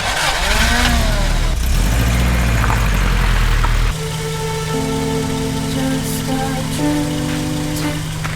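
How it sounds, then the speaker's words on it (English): A 30-year-old Subaru Loyale drives along a road in a storm, its engine running loud and close with a rough rumble, then settling into a steadier hum with rain noise around it. "I'm gonna drive up and down the road here and see if anything goes catastrophically wrong"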